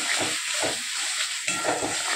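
Stirring in a kadai with a little extra oil added while preparing fish, scraping strokes repeating in an uneven rhythm over a steady hiss of frying oil, close and fairly loud.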